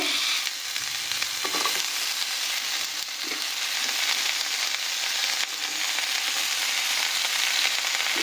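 Vegetable stalks, including cauliflower and cabbage stalks, sizzle and crackle steadily in a hot pan, a continuous dense frying hiss with a few soft stirring clunks.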